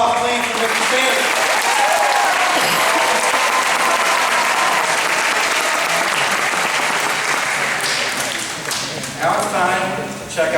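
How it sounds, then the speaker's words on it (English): Sustained, loud applause from a school assembly audience honoring Mr. Sanders, dense clapping filling the hall for about ten seconds before thinning near the end, with some voices mixed in. "Another big round of applause, please, for Mr. Sanders."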